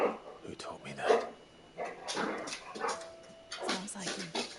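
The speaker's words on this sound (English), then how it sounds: "This dog is way too excited." An excited dog in the video game Final Fantasy XVI barks and yips in short repeated bursts, mid-distance, with game dialogue voices talking around and over the barks.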